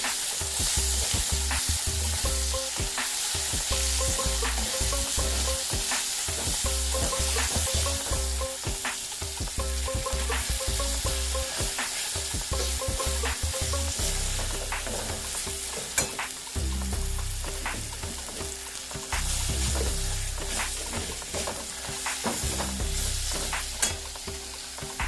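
Cumin and coriander powder frying over low heat for home-style haleem, with a steady loud sizzle and scraping stir strokes throughout, no voices.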